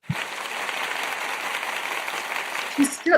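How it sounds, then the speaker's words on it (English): A sustained round of applause from a crowd, steady and fairly close, with brief voices cutting in as it fades at the end. "She clapped so late."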